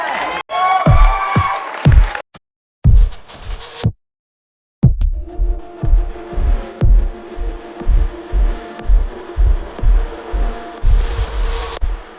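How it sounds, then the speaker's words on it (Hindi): A college function crowd at a pharmacy institute cheers and whoops to welcome a participant, with loud rhythmic thumping music and bursts of shouting broken by brief silent gaps. "तो जोरदार तालियों से इनका स्वागत किया जाए"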